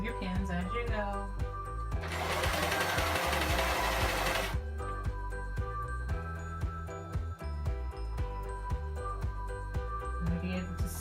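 Sewing machine stitching fabric together for a tube dress, a dense buzzing run of about two and a half seconds amid quiet mechanical clicks, with soft background music playing throughout.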